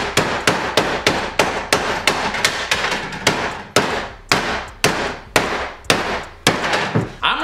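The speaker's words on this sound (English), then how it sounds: "just bang with a hammer till it forms to the shape" A hammer bangs repeatedly on a plaque to bend it into shape, with about fifteen sharp, evenly spaced metallic knocks up close, each ringing briefly before the next.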